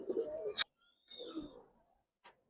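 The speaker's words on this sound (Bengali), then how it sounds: "তো কবুতর গুলা দেখেন মাশাআল্লাহ" Old-breed Giribaz and silver pigeons give soft, low coos in two short bursts separated by quiet pauses, close by and faint, with a brief sharp flutter or click between them.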